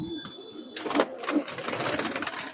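Pigeons, including males, coo nearby in low, throaty bursts over a rustling, busy background, with wing flutters and movement.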